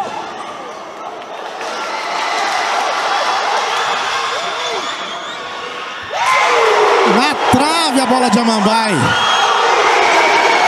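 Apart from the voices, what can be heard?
futsal crowd cheering in the stands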